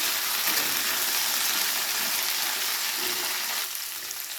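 Bitter gourd pieces and potatoes fry together in a pan with a dense, steady crackling sizzle up close that eases slightly near the end, and no voices are heard.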